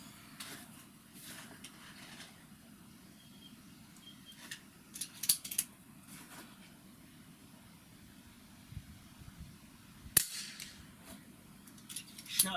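Umarex Notos air rifle fired at a 60-yard outdoor range, with a few sharp, fairly faint cracks spaced seconds apart, the clearest one near the end, set against steady wind-like background noise.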